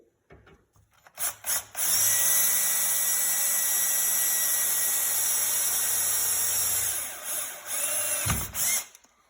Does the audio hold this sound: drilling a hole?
yes